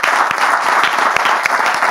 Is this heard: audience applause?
yes